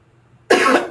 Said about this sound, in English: Apologize for the coughs.